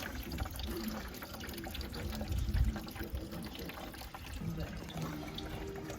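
Coolant pours and splashes steadily out of a Massey Ferguson 1010 compact tractor as it is drained, a continuous close liquid gush with no talk.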